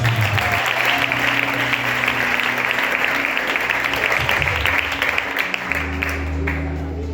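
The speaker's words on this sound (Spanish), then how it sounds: "Aleluya, dale ese aplauso" A church audience applauds in a loud, continuous wash of clapping, close and full, with a low sustained tone beneath it that fades near the end.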